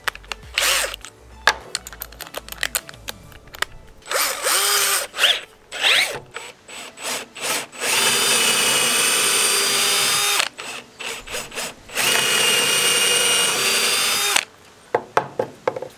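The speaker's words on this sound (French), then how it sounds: "Je vais utiliser une deuxième mèche cette fois-ci à bois et qui est beaucoup plus large" A power drill with a large wood bit bores holes in wood while making climbing holds, sounding as several loud whirring bursts of a few seconds each, broken by short pauses, clicks and handling knocks.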